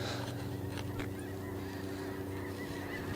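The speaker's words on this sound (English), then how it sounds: "you can hear the geese. Snows and blues and all that are moving in." A flock of snow and blue geese honking continuously at a distance, many overlapping calls over a steady low rumble of background noise.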